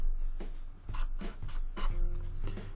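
Matchsticks being drawn by hand on paper, heard as a series of short, close scratchy pen or pencil strokes in quick succession, with no talk.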